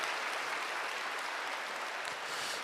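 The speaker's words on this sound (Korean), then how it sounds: "다시 한번 큰 박수로 축복해 주시기 바랍니다" Sustained applause from a church congregation during a Sunday worship service, a steady dense wash of many hands clapping at a distance with no talking over it.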